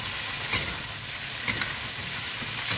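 Chilli mushroom frying in an Indian kadhai, giving a steady soft sizzle with three brief sharp clinks of stirring spaced through the clip, close and alone with no voices.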